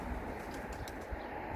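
A young pigeon coos softly in an aviary, low murmuring calls with a faint bird chirp or two over steady background hiss.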